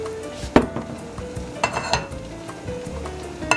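Oil heating in a pan before quail eggs go in, a soft steady sizzle with a few sharp clinks and taps of utensils against the pan.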